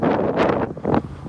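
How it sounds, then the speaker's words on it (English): An outdoor gust of wind buffets the microphone in loud, rumbling, uneven surges that swell and ease over about a second, with no talking. "We get a nice wind gust here."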